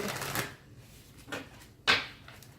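Tarot cards being shuffled, a few soft riffling bursts with a sharper snap near the end, close by and quiet.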